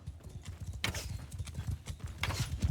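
Galloping horse archers' hooves clatter in Mount & Blade II: Bannerlord, a steady stream of rapid clip-clop beats with occasional louder bursts, fairly close and continuous across the clip.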